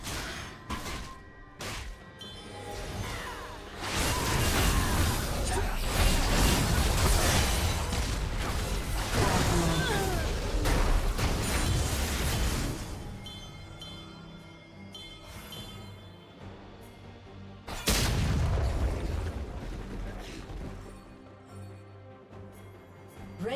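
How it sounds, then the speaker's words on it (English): A League of Legends turret breaks apart in a jumble of heavy thuds, crashes and bursting pops, set against busy game effects, with a second loud crunch later and no talking. "Red Team's turret has been destroyed."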